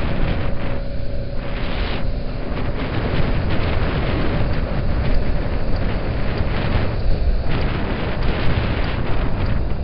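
A Honda Jazz/Metropolitan scooter cruising along a road at about 55, with a constant roar of wind buffeting the microphone over a low engine drone, loud and unbroken throughout.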